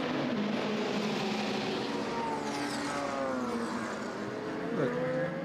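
Race cars circulate during the 2017 24 Hours of Le Mans, their engines making a continuous distant roar as a car sweeps past with a shifting whine near the end, with no voices.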